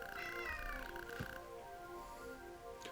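A cat meows a few times at close range in a quiet room. The calls are soft and drawn out, and a faint hum runs underneath.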